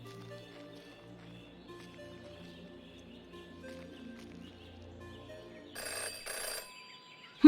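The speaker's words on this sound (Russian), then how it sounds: "Тут вдруг позвонил телефон." A telephone rings in the video game Jenny LeClue: two short, bright ringing bursts near the end, rising over a quiet, steady musical backdrop.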